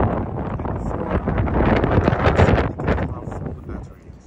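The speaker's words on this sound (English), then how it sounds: "I'm talking loud, guys, because it's windy." Heavy wind buffets the microphone in a constant low roar, rising and falling, with faint voices buried underneath.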